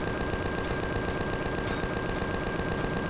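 Turret gunfire in the space survival game Empyrion Galactic Survival, a dense, continuous roar of rapid shots and explosions under heavy fire, loud and sustained throughout with no pauses.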